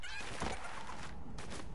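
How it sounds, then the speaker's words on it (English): Chickens clucking amid a busy, noisy Fortnite soundscape, a few short bursts standing out over constant background clutter. "Chickens!"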